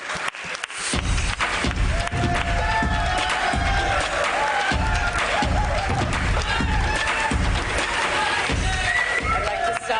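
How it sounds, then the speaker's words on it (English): A large crowd at a 2019 Indian cricket awards ceremony greets Ravi Shastri with loud, sustained clapping and cheering, whoops and voices mixed into the roar throughout. "So please let's welcome him with a massive round of applause."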